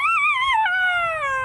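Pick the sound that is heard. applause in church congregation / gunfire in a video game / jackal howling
jackal howling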